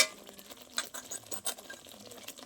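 Water from a mixer jar is poured into spice paste frying in a pan for egg korma, making a brief, soft splashing sizzle with light stirring noises at a low level.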